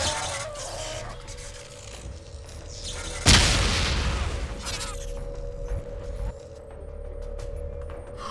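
A sudden sharp grenade blast in the Dead Effect shooter game bursts out mid-clip and rolls off into a rumbling tail, amid a low hum and scattered clicks of in-game combat noise.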